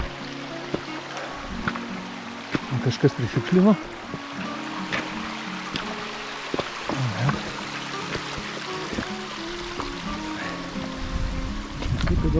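A mountain stream on a rocky trail near Zakopane in the Tatras, its water flowing and splashing steadily under footsteps and close talk from hikers.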